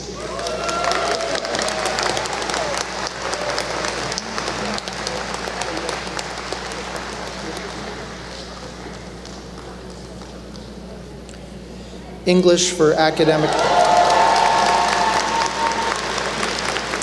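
Graduates are applauded at a university convocation ceremony. Sustained crowd clapping fills a large hall and slowly fades, then a speaker's amplified voice takes over, with a fresh burst of applause and cheering near the end.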